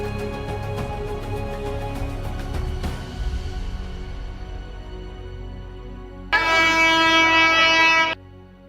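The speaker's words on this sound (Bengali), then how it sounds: "এরপর ট্রেন হর্ন দিতে দিতে বগুড়া স্টেশনে ঢুকলো।" A train sounds its horn as it pulls into Bogura railway station, with loud sustained blasts, the longest and strongest one coming near the end, over a steady rumble and station bustle.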